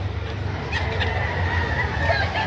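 Chickens at a poultry market in Padre Garcia, Batangas, clucking faintly in a steady murmur of crowd noise, with no clear single call standing out.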